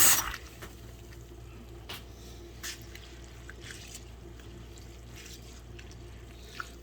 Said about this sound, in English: I like washing my rice about twice.